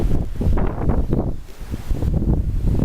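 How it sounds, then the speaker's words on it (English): Blustery wind buffets a squid pole antenna mast outdoors during a radio contest, a loud continuous roar of gusts and microphone wind rumble that swells and dips for about three seconds. "More wind, more blustery squid pole."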